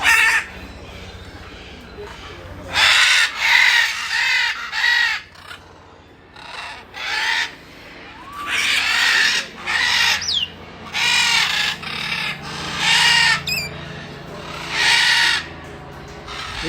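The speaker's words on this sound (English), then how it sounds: "These birds are very loud." Loud parrots calling at Parrot Mountain in Pigeon Forge, Tennessee, with harsh squawks and screeches bursting out repeatedly in close, noisy clusters separated by brief lulls.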